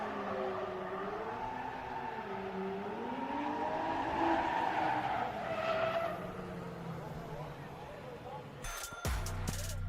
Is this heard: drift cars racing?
yes